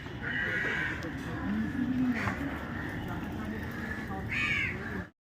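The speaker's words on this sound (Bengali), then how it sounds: "পাখির আওয়াজগুলো একটু শোনাচ্ছি তোমাদের।" Crows caw in the morning, a few harsh calls at the start, middle and end over a steady outdoor hum with faint background voices.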